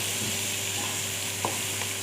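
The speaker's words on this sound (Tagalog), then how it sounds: "Ayan, halo-haloin lang natin siya." Shrimp fry with garlic and onion in a pan, giving a steady close sizzle throughout while a utensil stirs it with soft scraping strokes.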